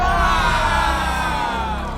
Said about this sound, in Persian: طرفدارا همه دارن تشویقش میکنن